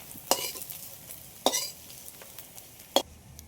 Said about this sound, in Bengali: আর একইভাবে সব বড়াগুলোই ভেজে নেব